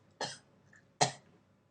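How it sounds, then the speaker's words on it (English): A person gives two short, separate coughs close to the microphone, each a quick dry burst followed by near silence, quiet and isolated. "sorry, I got kennel cough."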